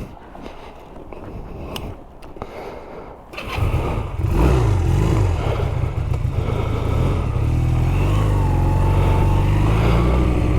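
A Honda CB250 Nighthawk motorcycle engine idles with a few clicks, then rises into a louder steady drone as the bike pulls away and rides on, close and continuous.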